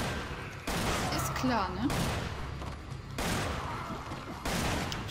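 Bursts of gunfire from the video game Resident Evil 5 come in short rapid volleys, loud and close, separated by brief pauses, while a player talks over them.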